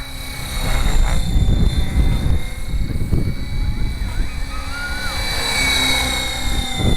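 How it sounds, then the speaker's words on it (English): A small Gaui X5 model helicopter whines and buzzes nearby, its rotor pitch rising and falling as it maneuvers, with no talking. "The helicopter, not me."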